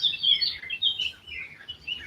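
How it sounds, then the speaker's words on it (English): A bird chirps outdoors in a series of quick, high, bright tweets that rise and fall over a quiet background, moderately near, with no talking. "here come the bird"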